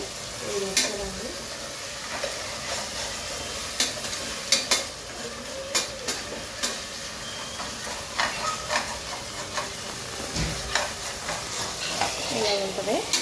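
Chicken curry with salt, turmeric and tomato pieces is stirred in a hot pan, a continuous sizzle and hiss under repeated spoon scrapes and clicks, with faint voices talking in the background.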